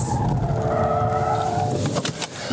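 A classic Morris 1000 rear-wheel-drive car with thin tyres drives along, its engine giving a loud, steady drone with a sustained tonal hum and no voices.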